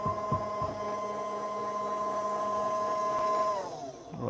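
An EK43 or DM47 coffee grinder runs with a steady, close electric whine and hum, holding a constant tone for about three and a half seconds before winding down, with a couple of light knocks near the start.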